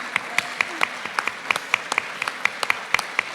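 Sparse clapping from a small audience at a comic convention interview in Barcelona, a handful of distinct sharp claps at an uneven rhythm rather than a dense wash, moderately loud and close, with no talk.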